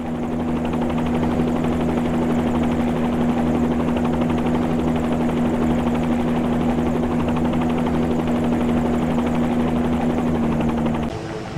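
A helicopter on floats in the X-Plane flight simulator drones steadily with a strong buzzing hum and thudding rotor, holding constant before cutting off abruptly at the end.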